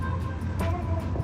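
A 1957 Chevy Nomad cruising, its low engine rumble and road noise steady and close from inside the car for a brief moment.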